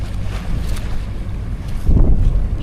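Steady wind roars and buffets the microphone on a small boat at sea, with a stronger gust swelling near the end; a low rumble of water or the boat runs underneath.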